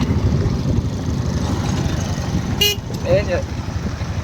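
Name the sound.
vehicle driving on a village road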